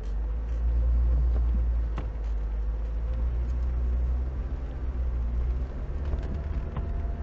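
A Lada Niva 4x4 on mud tyres creeps uphill through mud in first low gear, its engine giving a low, steady rumble with slight surges under a constant drone.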